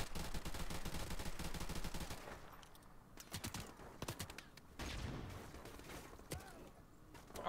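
A video game firefight opens with a sustained, rapid burst of automatic fire. Choppier scattered shots follow, then another long burst, all loud and continuous with no voices over it.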